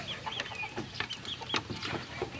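Chickens cluck softly in short, scattered bursts, fairly close, with a steady low background hum and no talking.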